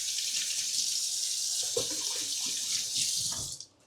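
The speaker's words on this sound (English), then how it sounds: "wash your hands." Hands being washed under a running kitchen tap, a steady close hiss of water with splashing and rubbing changes as hands move through the stream, before the flow shuts off at the end.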